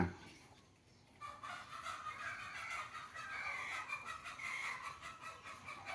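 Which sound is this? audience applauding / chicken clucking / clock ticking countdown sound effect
chicken clucking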